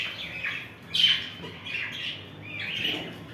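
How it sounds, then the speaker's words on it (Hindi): Pigeons call in short, repeated bursts, several coos and squawks close by with brief pauses between them, no talking. "ये देखो आप सारे कबूतर यहाँ पे ऊपर है"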